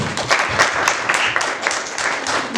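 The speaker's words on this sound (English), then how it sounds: "Give them a round of applause." Audience applause for children after a spelling exercise at a book reading, a short burst of many hands clapping with uneven, busy rhythm, fairly close and loud, with a voice briefly mixed in.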